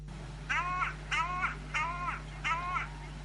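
Four harsh, evenly spaced crow caws ring out over a steady low hum, each call drawn out and fairly loud, recorded at 7 a.m. in Karaganda.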